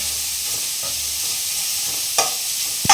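Grated carrot frying in hot ghee gives a soft, even sizzle with a few light stirring scrapes and a sharp clink near the end, with no talking.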